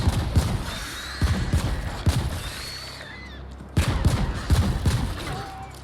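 Gunfire in the video game The Ascent comes in repeated close volleys of sharp shots and thumps, pausing between bursts over a background of game sound effects.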